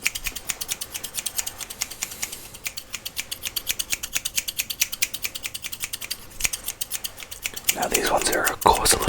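Barber scissors snip hair in a close, steady run of crisp, rhythmic cuts during an ASMR haircut, with a louder rustling burst near the end.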